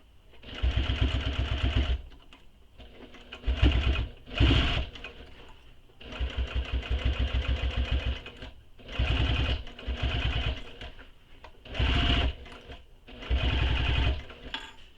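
A sewing machine stitches through layers of backpack fabric in several loud, close bursts of rapid mechanical whirring, stopping and starting with short pauses between runs.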